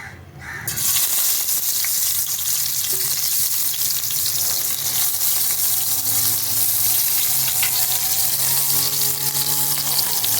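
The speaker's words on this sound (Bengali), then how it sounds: "এখন আমি মাছগুলো আস্তে আস্তে কড়াইতে ছেড়ে দেবো" Fish sizzles steadily in hot oil in a kadai while preparing a Bengali broccoli and fish curry, a loud, continuous frying crackle that begins abruptly and holds throughout, with occasional light spatters and no voices.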